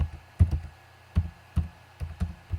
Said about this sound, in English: obviously you can just watch what I type as well